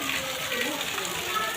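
Heavy rain pouring during the rainy season, a dense, steady hiss of water falling on surfaces, with faint voices in the background.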